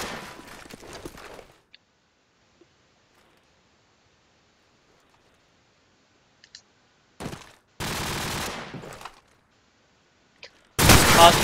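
Gunfire in Call of Duty 4 ProMod: short sharp bursts of shots separated by long quiet stretches, a couple of loud close volleys near the end.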